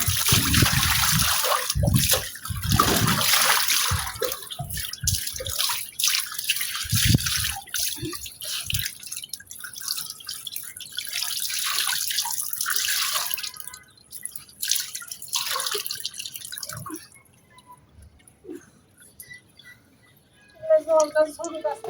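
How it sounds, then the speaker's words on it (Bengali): Water drips and trickles from freshly washed clothes hung up to dry, a close patter of drops fading to quiet, with voices heard at times. "জলটা ঝরুক আস্তে আস্তে"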